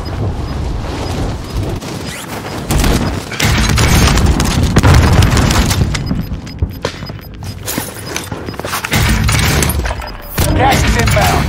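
Heavy gunfire in Call of Duty Warzone on Rebirth Island, loud close bursts of rapid shots and booms in dense clusters, with short gaps, and voice lines heard between the shooting.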